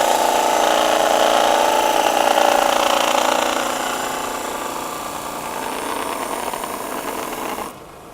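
A circular sander is pressed hard against a resinous, sappy end-grain knot, giving a loud, steady high whine that sags slightly in pitch under the load, then cuts off near the end.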